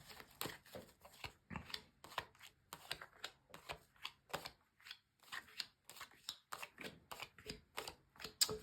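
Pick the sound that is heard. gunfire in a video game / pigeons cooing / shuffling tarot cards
shuffling tarot cards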